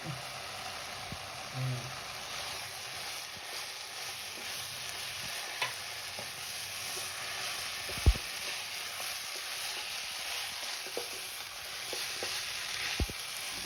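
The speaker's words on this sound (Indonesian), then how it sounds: "ingat kalau ngaduknya itu harus pakai otot kayak gini ya guys" Chicken frying in a pan while being stirred vigorously, a steady close sizzle with occasional scraping knocks and a sharp clank, a brief murmur of voice early on.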